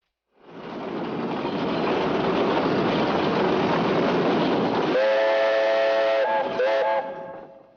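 Loud steam engine whistle on a threshing engine at a Steuben County, Indiana farm: a rushing hiss of steam that swells into a sustained tonal shriek, then bends in pitch and fades out.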